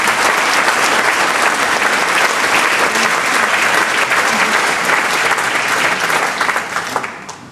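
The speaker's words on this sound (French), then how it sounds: "je vous demande de les applaudir" An audience applauds volunteers at a New Year's greetings ceremony: loud, dense, sustained clapping for about seven seconds that fades toward the end, with no speech.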